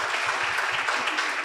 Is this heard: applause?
yes